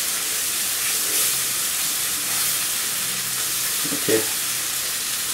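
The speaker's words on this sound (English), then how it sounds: "I'm going to keep frying it until I can smell a great fragrance" Masala frying in a pan for an aubergine and potato curry, a steady close sizzle and hiss throughout, with a brief clink of stirring near the end and one short word spoken.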